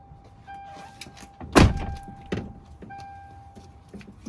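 A Toyota 4Runner rear door power window lowering, its regulator moving, with a steady electric motor whine and one loud thump partway through.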